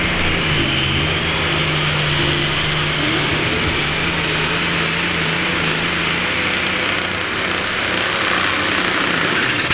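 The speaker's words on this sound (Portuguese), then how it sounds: "E novamente na pista, o trator Mudley" A pulling tractor in the free 4400 kg class at a tractor pull competition in Castrolanda roars loudly and continuously at full throttle, its engine pitch rising steadily as it runs down the track.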